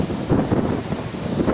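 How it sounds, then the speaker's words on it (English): Steady winter wind gusts buffet the microphone outdoors in Rochester, a low rumbling roar that swells and eases without any voices. "It's a winter day, it's windy outside."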